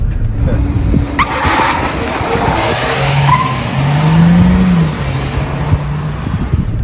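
A 2023 GAC Empow runs on a race track, its engine note rising steadily over several seconds as revs climb, with tire noise and a steady drone throughout while a person talks faintly in the car.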